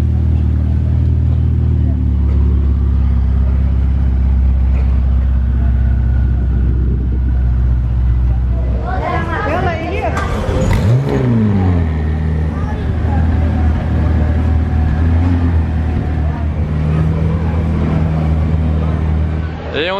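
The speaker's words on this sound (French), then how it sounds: "on a une pista Spider qui arrive et c'est la première fois que je la vois rouler celle-ci" A Bugatti Pista Spider rolls past on the casino square in Monaco, its deep engine rumble building into a loud revving surge as it passes close by, then settling to a steady drone, with people talking nearby.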